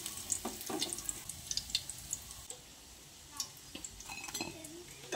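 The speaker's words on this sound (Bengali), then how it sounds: "এখন একটা ছাঁকনার সাহায্যে ছেঁকে আমি পকোড়াগুলোকে তুলে নিচ্ছি।" Fried egg pakoras being lifted out of oil with a strainer, faint oil sizzle under repeated metallic clinks and scrapes of the strainer against the pan, irregular and quiet.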